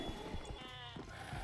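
A goat bleats once as a sound cue in the horror shooter Sker Ritual, a short, wavering cry heard over a dense game background.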